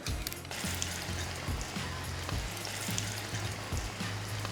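Noodle-crusted chicken fries in hot soybean oil, producing a continuous bubbling sizzle with a few soft knocks and bumps from the pan, close and fairly loud, with no talking.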